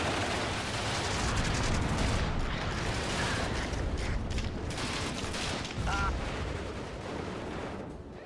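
Artillery barrage pounding troops in the strategy game WARNO, a dense continuous rumble of blasts and gunfire filling the whole stretch at a loud, steady level, with no talk over it.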